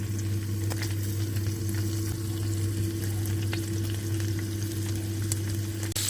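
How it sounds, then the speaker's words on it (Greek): Shrimps fry in olive oil in a pan, giving a steady close sizzle with faint crackles and an even hum underneath throughout. "και τις τηγανίζω το πολύ για 1 λεπτό"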